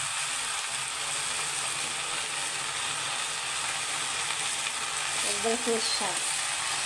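Red amaranth greens frying with salt in a pan, a dense, steady sizzle running the whole time, with a brief burst of stirring and scraping near the end.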